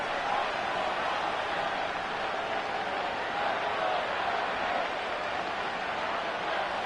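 A stadium crowd in the Madden 25 football video game roars in a dense, unbroken wash of noise that holds steady and loud late in a close game.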